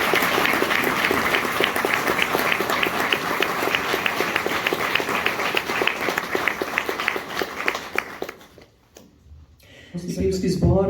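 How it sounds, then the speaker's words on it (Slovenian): At a hunters' choir concert, an audience gives a strong, dense applause with a rhythmic, nearly unison beat for Mr. Gostiša. The applause stops abruptly after about eight seconds and a speaker begins talking. "En krepek aplavz za gospoda Gostiša."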